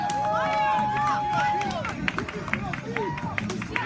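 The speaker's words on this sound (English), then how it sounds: "Here in the championship series, the crowd going crazy." A baseball crowd at a championship series game roars and claps after a home run, the cheering loud and sustained beneath an announcer's excited commentary.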